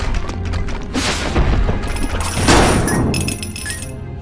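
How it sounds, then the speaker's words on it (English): In a Batman game, batarangs knock stalactites loose from a cave ceiling, and they crash down as loud booms and shattering, clinking debris in a dense burst that is followed by scattered tinkling fragments. "I should be able to break those stalactites off the ceiling using my batarangs."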